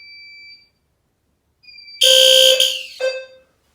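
Testing an SFP-10UD smoke and heat alarm: a few short electronic beeps, then a loud, shrill, harmonic-rich alarm tone bursts out, breaks briefly and sounds again before cutting off, close by with no talking.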